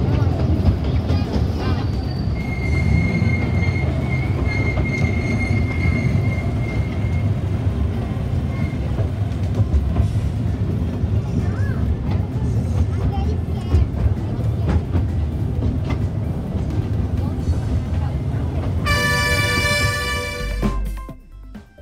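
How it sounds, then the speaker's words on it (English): A small toy train rolls through a rail museum in Mysore with a steady rumble and rattle, wind buffeting the microphone, a faint tone partway through and a short sharp chime near the end. "The toy train takes you around the rail museum, showing the outdoor exhibits."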